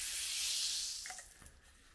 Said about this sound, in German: Das Wasser da drin fängt sofort an zu kochen.